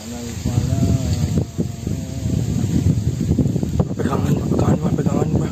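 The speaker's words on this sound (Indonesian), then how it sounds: "Angin gede banget" Strong gusting wind roars and rumbles loudly and steadily against the microphone, with people's voices heard faintly underneath.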